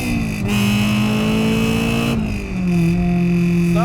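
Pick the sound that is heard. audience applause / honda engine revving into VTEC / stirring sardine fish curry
honda engine revving into VTEC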